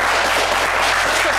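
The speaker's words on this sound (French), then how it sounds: "On va l'applaudir très fort, Laetitia." A TV game show studio audience applauds, a dense, steady wash of clapping at close, loud level.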